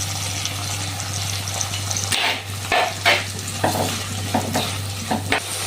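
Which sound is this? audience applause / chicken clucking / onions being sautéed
onions being sautéed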